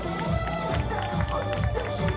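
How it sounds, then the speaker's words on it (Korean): Crowd at a year-end evening show with a singer clapping steadily in a dense, continuous wash of hand claps, loud and close throughout with music underneath. "다시 한번 박수!"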